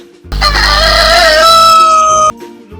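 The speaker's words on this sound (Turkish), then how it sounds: "Bu bir horoz." A rooster crows once, loud and close, one long drawn-out call that ends abruptly.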